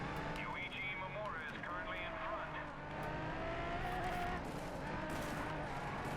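A racing car engine in the video game Race Driver GRID revs and whines with rising and falling pitch sweeps and tire noise, steady and fairly close, while someone talks over it.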